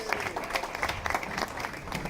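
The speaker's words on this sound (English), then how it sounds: "everybody give her a round of applause" A small crowd at a 90th birthday celebration claps steadily for a couple of seconds, a warm even round of applause with no voices over it.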